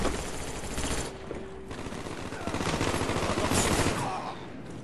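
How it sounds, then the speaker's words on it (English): Steady bursts of enemy gunfire crackle from a building during a video game firefight, continuous and fairly loud throughout with dense overlapping shots. "They're all shooting at you"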